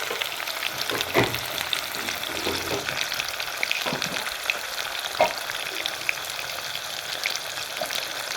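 A spiced potato and pea mixture with salt and turmeric fries in a pan, giving a steady, even sizzle broken by a few soft scraping stirs, with no voices.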